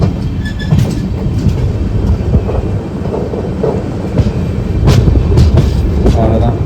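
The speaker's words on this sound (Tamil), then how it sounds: "இப்போ நம்ம இங்கே பார்க்குற ட்ராக்கில் இப்போ ட்ரெயின் போக போகுது" The Chennai–Shirdi express rumbles loudly and continuously as it crosses onto another track, with irregular metallic wheel clacks and thumps over the points, heard close up.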